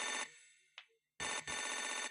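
A telephone ringtone plays in two loud bursts separated by a short gap, with a brief chirp in between and no talking.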